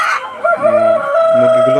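Close, loud crowing from roosters in a breeder shed of Sonali hybrid and Tiger chickens, one drawn-out call with stacked harmonics and a second crow beginning, over faint clucking and a brief voice at the start.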